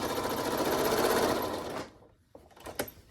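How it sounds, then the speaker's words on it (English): A sewing machine runs steadily as it stitches down to the bottom of a fold in fabric, a close, continuous motor whir lasting under two seconds before stopping, followed by a few faint clicks and handling noises. "sew down to the bottom of the fold."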